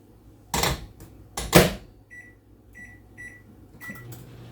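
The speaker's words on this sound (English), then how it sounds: "Pop your rice packet into the microwave for 90 seconds" A microwave oven heating a rice packet: two loud door or latch clunks, then a series of short high electronic beeps, over a low steady hum from the running appliance.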